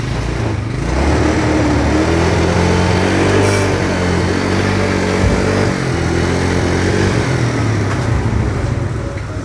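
A Yamaha Mio Soul scooter, an older model with a battery that runs down and hard starting, idles steadily and loud at close range, its light engine droning evenly throughout with no talk over it.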